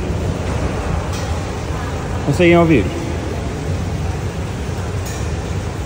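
Water drops strike cymbal-like metal plates inside the Burj Khalifa, giving one brief ringing ping that stands out over steady crowd and air-handling noise while people talk.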